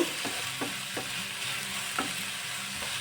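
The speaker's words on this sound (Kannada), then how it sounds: "ಮೀಡಿಯಂ ಫ್ಲೇಮಲ್ಲಿ ಇಟ್ಕೊಂಡು ಫ್ರೈ ಮಾಡ್ಕೊಳ್ತಾ ಇದ್ದೀನಿ ಫಸ್ಟ್ ಈರುಳ್ಳಿ ಚೆನ್ನಾಗಿ ಸಾಫ್ಟ್ ಆಗಬೇಕು" Onions fry in a pan over a medium flame while preparing filling for egg puffs, a steady close sizzle with a few soft scrapes and taps of a spatula stirring, no voices present.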